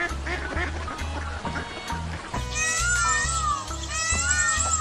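A muscovy duck quacks repeatedly in short rhythmic bursts over a steady background, with other animal calls mixed in, loud and close.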